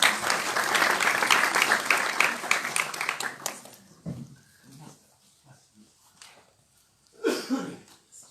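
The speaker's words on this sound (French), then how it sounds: "qu'on applaudit très très fort" A university excellence awards ceremony in 2019: a crowd applauds a prize winner with dense, loud, continuous clapping for about four seconds, then it stops abruptly, leaving quiet room noise, a cough and scattered murmurs.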